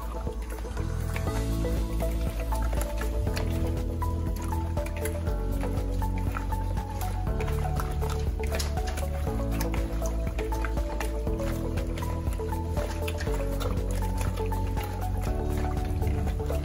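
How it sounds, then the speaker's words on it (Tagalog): Chicken pieces being mixed by hand in marinade give wet squishing and dripping sounds, steady throughout under continuous background music. "Maganda po yung kamay yung ginagamit para pantay ang halo."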